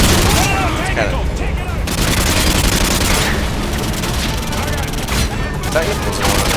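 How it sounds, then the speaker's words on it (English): A machine gun fires in Call of Duty Modern Warfare 2 on Xbox 360: loud, dense, sustained bursts of rapid gunfire with booming impacts, almost unbroken throughout. "you can actually take the machine gun around."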